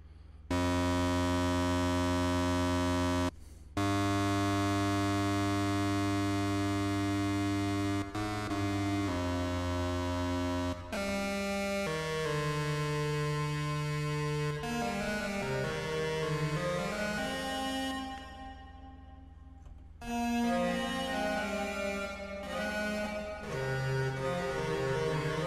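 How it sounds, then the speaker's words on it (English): An electric guitar runs through the hall reverb of a JHS VCR multi-effect pedal, with sustained chords and single notes ringing out in a moderate, not overly large wash, played steadily without talk. "So yeah, it's a hall reverb, but it's not massive."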